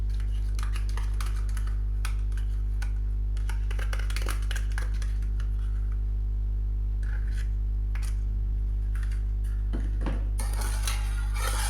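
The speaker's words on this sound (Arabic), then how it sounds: "ثم غادي ناخد دانون وغنخلطو مع الحليب" Danone yogurt being mixed into milk in a bowl, with scattered light clinks and scrapes of a utensil against the dish over a steady low hum, no talking.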